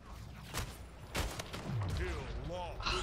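Gunfire in the Splitgate multiplayer video game, a few sharp separate shots with sweeping futuristic weapon and effect sounds between them, fairly quiet.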